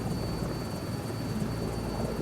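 Sikorsky S-64 Skycrane helicopter in the MSFS 2024 flight simulator, a steady, dense rotor and turbine roar holding at an even level throughout, with no speech.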